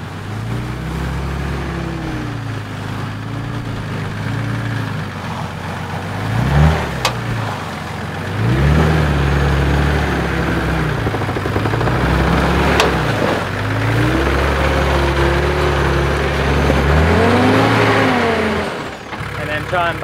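A car engine revs up and down repeatedly before a clutch drop, rising and falling in pitch with a loud, close rumble, while voices talk over it, in the Lithgow mountains.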